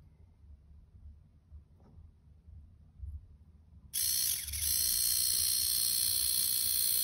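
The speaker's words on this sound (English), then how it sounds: "Now I will try to run this DC motor with my homemade supercapacitor." Small DC motor powered by a homemade supercapacitor, quiet at first, then it starts abruptly and settles into a loud, steady high-pitched whine close by.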